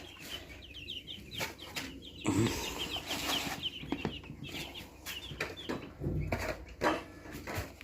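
Farmyard chickens being fed cluck and squawk at close range in a busy chorus, with a brief burst of wing flapping and some rustling among them.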